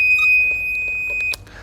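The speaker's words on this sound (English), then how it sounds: "It's going to make that awful beep," A multimeter gives a loud, steady, high-pitched electronic beep when its test leads touch on the lowest resistance setting. The tone holds for over a second and then cuts off abruptly.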